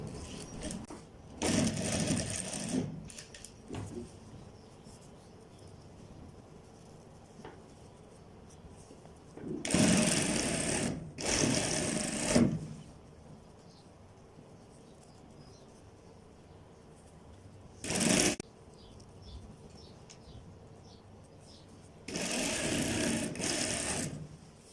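A sewing machine stitches pajama fabric in several short bursts of rapid whirring, separated by quiet pauses, heard up close with nobody talking.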